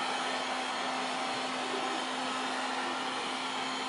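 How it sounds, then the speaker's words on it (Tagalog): A flash dryer runs steadily while curing a discharge-underbase silkscreen print, giving a constant, fairly loud broadband blowing hum with a low steady tone and no breaks. "Pag naka-flash dryer, ka, pantay ka agad ang tuyo."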